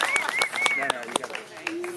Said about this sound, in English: let's give a nice big round of applause for Travis and his mother, Terry, on his very special day